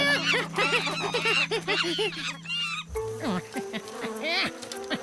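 Cartoon flies buzzing around stolen food in an animated Masha and the Bear episode, a wavering whiny drone in quick bursts, broken up by a honking comic sound effect and a character speaking.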